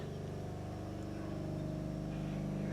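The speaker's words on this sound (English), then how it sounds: "That's the vacuum motor for the brakes." The brake vacuum motor on a 1966 Chevelle runs with the engine, giving a steady, close, pulsing mechanical drone that holds level with a rapid even throb and no talking.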